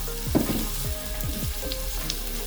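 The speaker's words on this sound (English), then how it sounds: "I'm going to saute these onions" Onions sauté in a pan with a soft continuous sizzle under a low hum, punctuated by a few brief scraping stirs, close and moderately quiet, with no voices.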